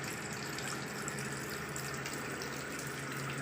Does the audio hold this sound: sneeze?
no